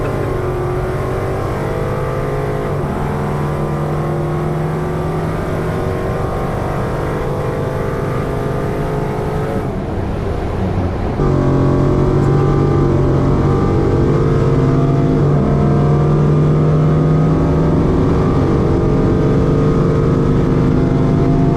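A Ford Mustang with a swapped 5.0 Coyote V8 accelerates hard, its engine roaring loud and close with a steady rising drone, a brief dip around the shift, then louder pulling for the rest of the run.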